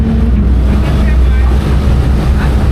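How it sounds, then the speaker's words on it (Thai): A ferry pulls away from a pier toward Koh Chang, its engine droning loud and steady close by, with wind buffeting the microphone throughout. "เรือกำลังจะออกนะครับ"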